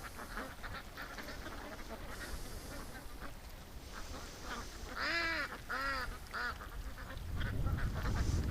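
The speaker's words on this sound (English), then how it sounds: "these ducks are deciding that playing in the creek is better" Ducks playing in a creek, a faint burst of several quacks in quick succession midway, over quiet outdoor background and soft rustle, no talk.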